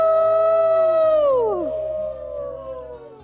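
Human voices imitate a wolf howl, a long sustained rising-then-falling howl that dips sharply and trails off with a softer overlapping wail, loud and close.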